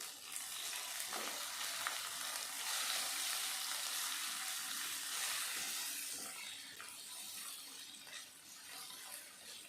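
Onion and capsicum fry for chilli chicken in a hot pan, producing a loud, dense, continuous sizzle with occasional stirring scrapes, close and without talk.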